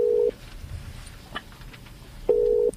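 A mobile phone call goes unanswered: the caller hears a clear ringback tone sound twice, each a steady electronic beep about half a second long, separated by a quiet pause of around two seconds.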